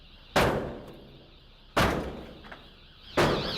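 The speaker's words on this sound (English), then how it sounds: "Agents had to use a battering ram to knock down the barricaded door and take Smith into custody." A police battering ram strikes a barricaded door three times at roughly one-and-a-half-second intervals, each a loud heavy crashing thud with splintering decay, close and without talk.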